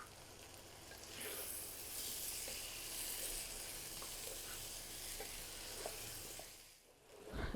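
Chicken frying with onions, ginger and garlic for a chicken curry, a steady close sizzle with occasional stirring scrapes over about seven seconds, fading briefly near the end before a louder burst.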